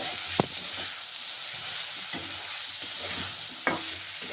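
Greens dropped into hot oil with garlic and dried red chilli, frying with a dense, even sizzle while a utensil stirs and taps the pan a few times, close and without speech.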